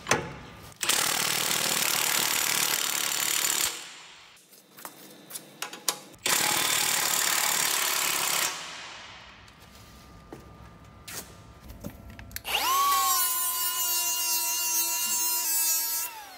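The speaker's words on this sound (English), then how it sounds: "I can now tighten up the clamps that hold in the top of the blade" Power tool driving the clamps that hold the top of a saw blade, loud whirring bursts of several seconds separated by clicks and rattles, ending in a rising mechanical whine.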